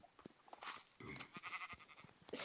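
Sheep bleating from the video game Minecraft, short synthetic bleats repeated several times at close range amid game sound effects and clicks.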